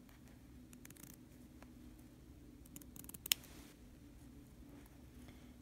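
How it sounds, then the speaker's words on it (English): Sharp scissors snip through fabric along a basting line in a series of quiet, close cuts, with one crisp louder snip near the middle, in a soft, still room. "I'm going to take my scissors and I'm going to cut"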